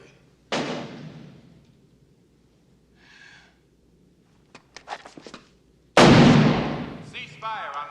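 Gunfire at an indoor shooting range: a loud sharp shot opens, a few smaller clicks and bangs follow, then a second powerful shot with a long decaying ring near the end.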